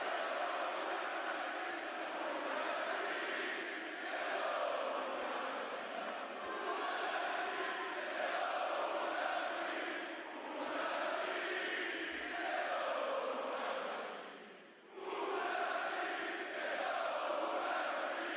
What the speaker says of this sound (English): God, man, the crowd is absolutely loud for him.